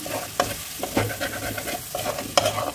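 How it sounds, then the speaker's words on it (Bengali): A masala of Kashmiri chili powder, ground coriander and ground cumin is stirred and fried in a pan, with repeated scraping strokes and a soft sizzle throughout. "মশলাটাকে কষিয়ে নেব।"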